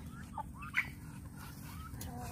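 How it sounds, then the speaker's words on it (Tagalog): A turkey on a small backyard farm gobbles faintly in the distance, a brief warbling call over a constant low hum. "May pabo na rin tayo, ayan, oh."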